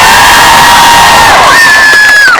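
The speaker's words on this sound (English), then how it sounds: "Can you give Adnan a big round of applause?" A loud crowd at a Palestine solidarity rally at Manchester Piccadilly cheers and whoops, with high sustained shouts and cries riding over a dense roar, close and very loud throughout.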